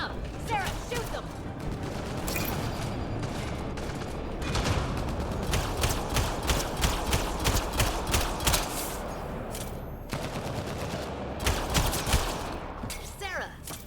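Mass Effect Andromeda gunfire rattles in rapid, repeated shots through most of the stretch, a fairly steady barrage at moderate loudness with battle noise around it.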